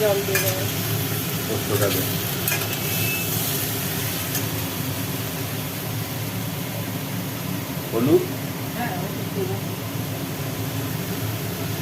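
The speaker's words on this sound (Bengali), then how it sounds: "অনেকক্ষণ ধরে কষানো হচ্ছে" Steady sizzling and scraping of spices being sautéed at length in a hot pan continues throughout, with faint voices and occasional clinks in the background.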